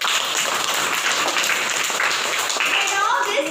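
Children in a classroom clap their hands together in a brief burst of scattered applause, with voices mixed in.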